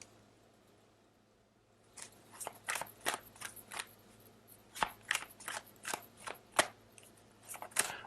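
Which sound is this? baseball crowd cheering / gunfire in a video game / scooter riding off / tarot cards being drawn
tarot cards being drawn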